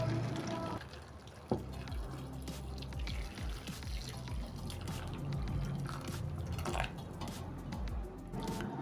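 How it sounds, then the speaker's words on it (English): Fish being washed by hand in a bowl of water for egusi soup, with close, continuous splashing, dripping and squishing throughout. "I'll start by washing the fishes we're using"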